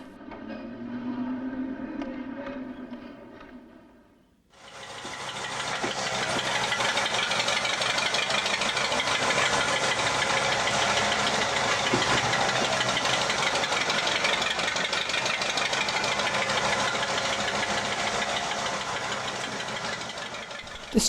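A model shunting locomotive idling on a railway layout beside a brewery siding: a steady mechanical hum that starts abruptly after a short quieter stretch, then runs continuously and evenly at moderate loudness.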